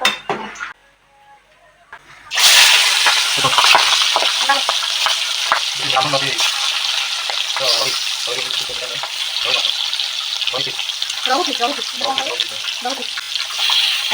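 River fish fry in oil, starting after a short quiet lead-in as a loud, close, crackling sizzle that keeps going, with bursts of spattering and a voice talking over it.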